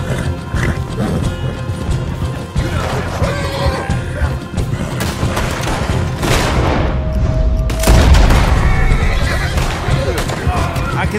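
Gunshots and crashes in the Western game Red Dead Redemption 2 ring out amid a horse's neighing and hooves, loud and dense throughout, with someone talking over the action.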